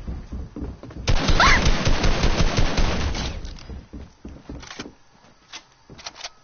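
Rapid automatic gunfire in a shooter video game, a dense burst of shots lasting a couple of seconds followed by scattered single shots and clicks, loud and close.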